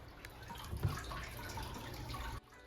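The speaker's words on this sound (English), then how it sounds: "The decision to make the urinal in the sink a legit rock waterfall feature is questionable" Water trickles and splashes continuously over a rock waterfall feature built into a restroom sink, a soft, close, steady flow that cuts off near the end.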